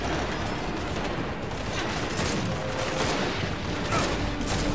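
Rapid gunfire from the video game Gears 5, a dense, continuous stream of shots and impacts filling the whole stretch, loud and close with no talk over it.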